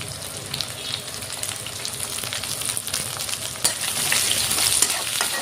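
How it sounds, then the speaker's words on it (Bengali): Chopped onion, green chillies, bay leaf and spices sizzle and crackle steadily in a hot oiled pan, close and continuous, with stirring scrapes throughout. "ভালো করে মশলাটা ভাজা নিব আমি"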